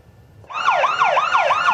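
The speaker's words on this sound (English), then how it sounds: "The sound of sirens helped launch the parade on its way down Ocean Drive Saturday." Emergency sirens launch a Christmas parade down Ocean Drive in Vero Beach, starting abruptly and wailing loudly in steady rising-and-falling sweeps close by.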